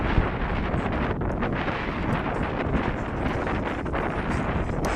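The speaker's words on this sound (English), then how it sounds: "A little windy this afternoon." Steady wind buffets the microphone with a constant rushing roar throughout, at an outdoor baseball game.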